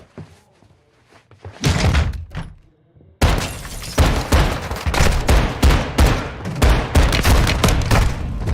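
Gunfire in a Call of Duty story campaign, a loud quick run of shots with short gaps, following an earlier brief burst, with punchy impacts and little else under it.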